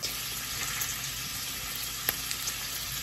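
Shrimp sizzle and fry steadily in a pan, a constant crackling hiss with occasional small pops, close and even throughout.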